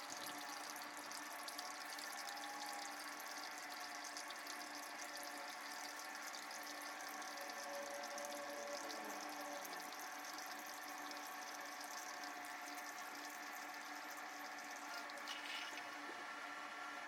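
Water pours steadily into the reservoir of a Keurig K-Supreme Plus coffee maker during descaling, a continuous faint splashing trickle heard close up with no talking.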